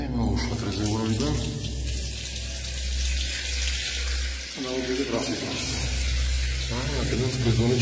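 Water pours steadily out of a reservoir in an automated water-supply filling setup, a continuous rushing flow heard close by throughout, with a person speaking over it.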